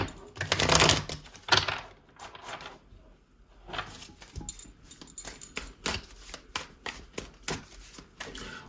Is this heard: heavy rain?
no